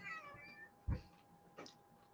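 A domestic cat meows close by: a couple of short, soft meows with faint background hum and no talking.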